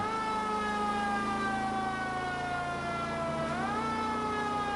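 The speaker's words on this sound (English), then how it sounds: "Okay, the siren's turning off." A loud, continuous siren wails close by, holding a steady tone before dipping and sweeping back up near the end, with a faint vehicle rumble beneath it.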